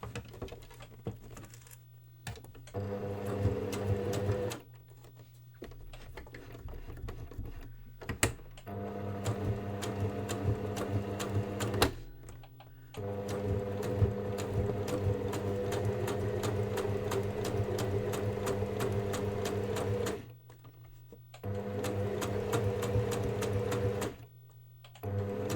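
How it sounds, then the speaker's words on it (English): A sewing machine stitches fabric in several steady runs of rapid, even needle patter, each lasting a few seconds and separated by short pauses, close and moderately quiet. "Apparently the secret to sewing in a straight line is to not go too fast."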